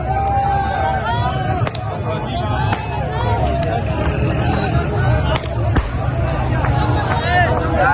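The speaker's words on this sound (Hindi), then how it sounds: "आतिशबाजी की जा रही है।" Fireworks crackle and pop in sharp scattered bursts at a crowded political welcome rally in Kasur, Punjab, heard over loud crowd babble and someone speaking.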